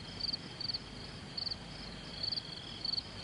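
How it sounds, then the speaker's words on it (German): A male cricket chirps in a cornfield, repeating short high trilled bursts in a steady rhythm, faint over a quiet background hiss. "Die Grille. Das heißt, nur die Männchen zirpen den ganzen Tag."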